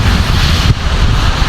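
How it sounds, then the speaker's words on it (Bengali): Wind blows outdoors after rain, a loud, close rushing roar that buffets the microphone without pause, with no voices. "কি মিষ্টি বাতাস, তাই না?"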